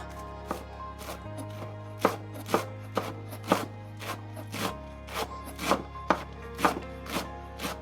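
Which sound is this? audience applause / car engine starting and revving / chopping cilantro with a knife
chopping cilantro with a knife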